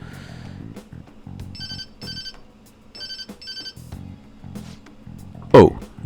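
A phone ringtone in the Persona 5 Royal video game rings in repeated electronic chirping bursts over game music and a low voice, ending with a loud blip.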